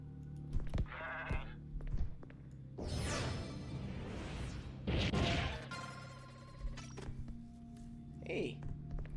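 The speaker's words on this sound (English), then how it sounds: "there's a goat here." A goat in the video game Zanki Zero bleats a few times amid whooshing and crashing game effects, with quieter bleats at the start and end and talk over parts of it.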